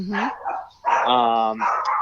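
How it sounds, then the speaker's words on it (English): A small chihuahua yips and barks excitedly in short, high-pitched bursts, three or four quick barks in a row, fairly close and prominent with little else underneath. "that's my little chihuahua going nuts in the background"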